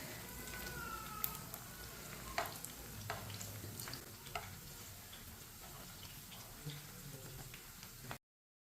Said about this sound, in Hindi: ये वाली साइड से भी 2 मिनट के लिए फ्राई होने देते हैं।